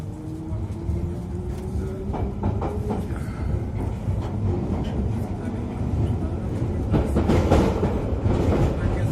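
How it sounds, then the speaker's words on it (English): London Underground Piccadilly line train running between Hyde Park Corner and Green Park, a low rumbling roar with rail clatter and rising squeals, heard from inside the carriage. "This is a Piccadilly line service to Cockfosters."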